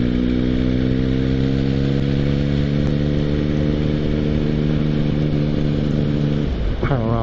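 A motorcycle pulls out of a tight right-hand bend on a road, its engine holding a steady, loud mid-pitched drone before a quick gear change and a rise in revs near the end.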